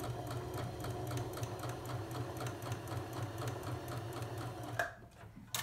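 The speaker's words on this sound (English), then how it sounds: "So we keep sewing." Sewing machine stitching a plain seam in fabric, a steady close whirring run with rapid regular needle ticks, stopping abruptly near the end followed by a brief handling rustle.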